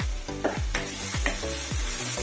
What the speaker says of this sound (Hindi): बीच बीच में इसे ऐसे आप हिलाते रहिए